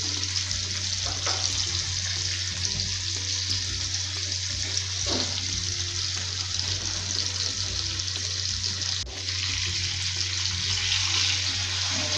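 Bangda mackerel fry in hot oil in a pan, a loud continuous sizzle and crackle with a few stirring clatters, close and steady for the whole stretch.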